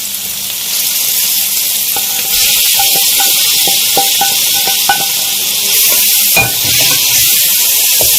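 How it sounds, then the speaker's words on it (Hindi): Chicken tikka being stirred into sizzling fried masala in a pan, steady loud frying hiss with repeated scraping and clinking of the spoon against the pan, no talking. "अच्छा, अब हम इस मसाले में अपनी चिकन टिक्के को शामिल कर रहे हैं।"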